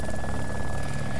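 A helicopter in the video game DayZ Epoch, set in Chernarus, runs as a steady, loud broadband rotor and engine drone that fills the whole short stretch without pause or break.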